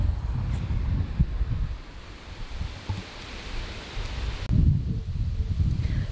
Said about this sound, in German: Ist übrigens auch mega windig und der Windmuff ist immer noch nicht da.